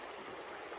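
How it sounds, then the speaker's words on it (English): Creek water flows in a steady, close, even rush, a short continuous stretch with no voices. "just got to the creek here"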